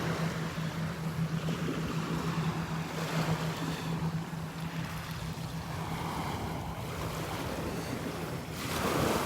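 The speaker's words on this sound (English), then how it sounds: "it's pulling them back down into the water here as the waves wash up on the beach." Surf washes steadily onto a shell-strewn beach at Delnor-Wiggins, a continuous broadband rush with wind buffeting the microphone, swelling slightly near the end.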